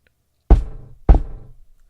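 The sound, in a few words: knocking twice on a floor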